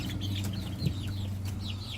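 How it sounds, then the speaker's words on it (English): Young chicks kept in a small garden pen cluck and peep softly, with short chirpy calls repeating over a steady low background hum, fairly close and unaccompanied by talk. "here are the chicks that I'm going to keep in here"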